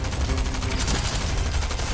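Dense, continuous gunfire from a Fortnite match, loud and steady throughout with rapid overlapping shots and no talking.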